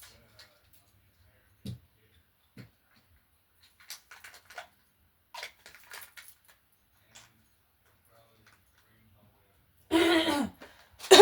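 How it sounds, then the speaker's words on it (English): A short, loud burst of throat clearing near the end, following a stretch of quiet with scattered small clicks and faint brief sounds. "Clear my throat."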